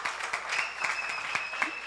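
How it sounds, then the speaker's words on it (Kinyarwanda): An audience applauds a singer at a singing competition, a short burst of dense, steady clapping heard close up. "Tumwongera amashyi menshi cyane"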